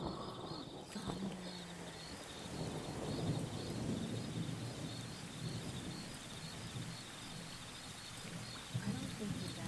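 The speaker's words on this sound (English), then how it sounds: "Thunder." Thunder rolling through a rainstorm, with low rumbles swelling and fading under steady rain on surfaces, faint chirps of birds, and a voice speaking briefly early on.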